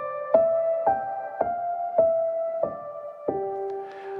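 An upper melody line played on a keyboard moves in six evenly spaced notes, each struck clearly and left to ring, then stepping down at the end, quiet and alone with no voices.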